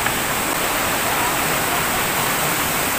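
Tabion Falls waterfall rushing with a strong current, a steady dense roar of falling water close by, unbroken and loud.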